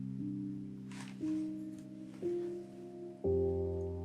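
A 3-step Afro house track made in FL Studio with an automated EQ filter, sustained synth chords stepping upward about once a second over a soft beat, no voices.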